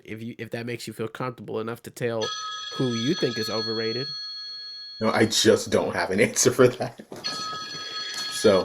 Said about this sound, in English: sorry for the phone call. Someone's calling me.